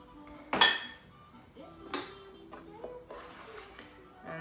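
A pan is set into a kitchen sink during a quesadilla cooking lesson, giving one sharp metallic clank and then a few lighter clinks of dishes and utensils, fairly near and with quiet moments between.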